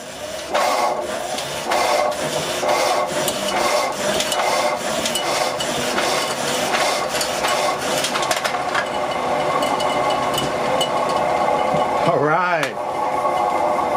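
Homemade generator built from a treadmill motor and driven by rowing-machine pulls, giving a repetitive mechanical whir and clatter with a pulsing rhythm, plus a rising and falling whine near the end.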